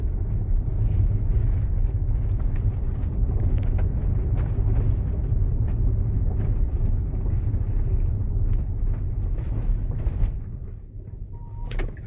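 Tesla Model X electric car driving, a quiet cabin filled with low steady road and wind rumble and no engine note, softening slightly toward the end.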